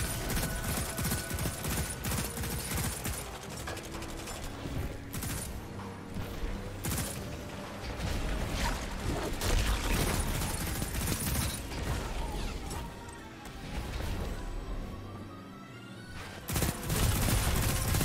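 Rapid gunfire from a video game weapon fills the stretch, dense bursts of shots layered with mechanical clicks and game effects at steady high loudness, with no talking.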